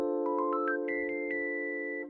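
A 7-1 chord substitution is played as a held chord with a climbing line of single notes above it. The top note sustains and then fades, with no other sound.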